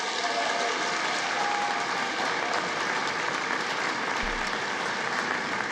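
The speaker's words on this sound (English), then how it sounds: "I guess they didn't get as much applause as I thought they would" Steady applause from a chamber audience follows the announcement of electoral votes at a certification session, a continuous moderate wash of many hands clapping with a brief low thump near the end.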